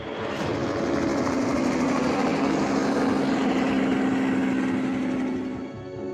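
A loud, steady engine roar with a low rotor throb from a helicopter flying low near a rhino during a darting operation, fading slightly at the end.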